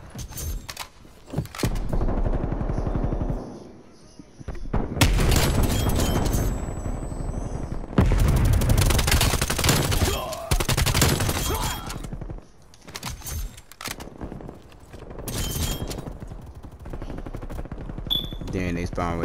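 Light machine gun fire in the video game Black Ops Cold War comes in loud, dense bursts with short gaps between them, heard alongside other in-game explosions and impacts.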